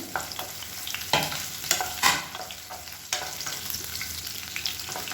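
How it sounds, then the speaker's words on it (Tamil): Sliced onions sauté in hot oil with a bay leaf, a piece of cinnamon and cardamom for a coconut milk rice kurma, giving a steady close sizzle broken by a few sharp stirring scrapes, with no voices. "பெரிய வெங்காயம் நீளமாக நறுக்குனதை சேர்த்து வதக்கி விட்டுக்கலாம்."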